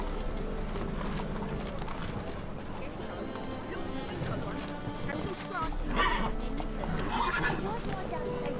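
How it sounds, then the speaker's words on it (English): Horse neighing and hooves clip-clopping in The Witcher 3, loud and close over game music, with a whinny and steady hoofbeats running throughout and a swell of noise near the end. "Whoa there, Roach"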